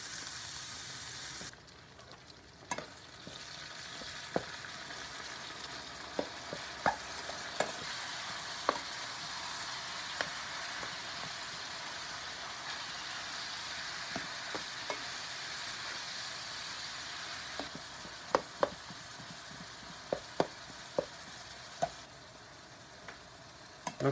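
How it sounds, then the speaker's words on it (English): Ground beef browning in a pan for a meat sauce, a steady close sizzle and hiss with scattered sharp pops and the occasional scrape of stirring throughout. "we're going to cook up some ground beef. Fry it all up and brown it in here in the pan"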